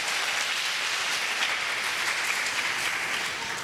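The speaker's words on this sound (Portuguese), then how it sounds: "Vamos dar um aplauso para elas bem forte." Audience applause at a church gathering, a dense, steady wash of clapping that stays loud and sustained throughout with no voices over it.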